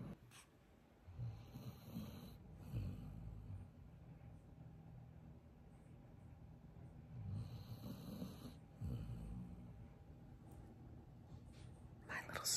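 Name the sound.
snoring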